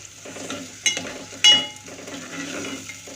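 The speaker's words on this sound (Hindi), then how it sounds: "जो मैंने प्याज काटी हुई थी बारीक, वो मैं डाल रही हूँ।" Finely chopped onions hit hot oil in a pot for beef stew and sizzle softly, with a couple of sharp clinks of a spoon against the pan as they are stirred, close and fairly quiet, no voices.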